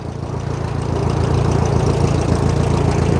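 An old small farm tractor that sat unused in a shed for ten years runs with a steady low rumbling chug, close and continuous, with no talking.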